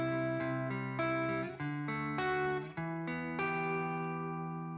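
Electric guitar strumming a chord shape from a riff, several ringing chords struck in a steady rhythm and sliding between positions, close and alone with no talking.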